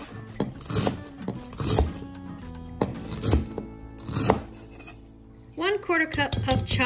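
Knife chopping cilantro stems on a cutting board for Cuban mojo chicken, heard as a series of close, uneven thuds and scraping strokes, followed by a short, brighter rattle near the end.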